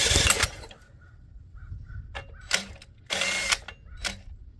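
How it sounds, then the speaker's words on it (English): A power drill, run at its second speed, whirs in a few short bursts to spin over a scrapped 3 hp dual-output Tecumseh engine, with mechanical ratcheting and rattling between the loud revving pulses. "I'm gonna put the drill in speed 2."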